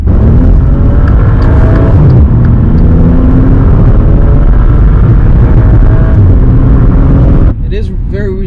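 A Maserati Ghibli luxury sedan's Ferrari-sourced twin-turbo V6 drones at a steady, fairly subdued level throughout, a continuous engine rumble with a brief change near the end.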